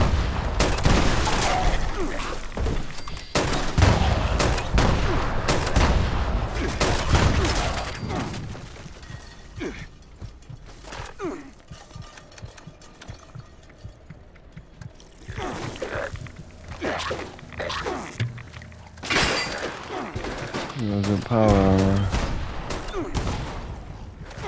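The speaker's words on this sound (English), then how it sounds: "I'm glad the grenades from this one don't hurt us." Grenade blasts and bursts of gunfire in Fallout 76 crash loudly and almost continuously, with booms, shattering debris and rapid shots layered over a dense, chaotic game soundscape.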